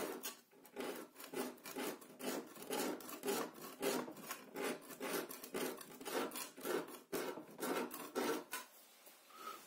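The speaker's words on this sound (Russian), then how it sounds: "давайте попробуем стереть грунт-краску от эмали" Primer paint is rubbed off an enamel-painted surface in quick, repeated rasping strokes, close and quiet, with a steady back-and-forth rhythm and no voices.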